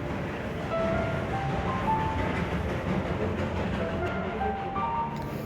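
A toy train in Darjeeling rumbles steadily along with a constant low roar and faint rattling, close and continuous without pause.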